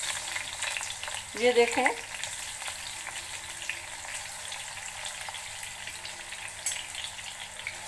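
Sliced eggplant frying in warm oil in a pan, a soft steady sizzle throughout, with a brief spoken phrase near the start.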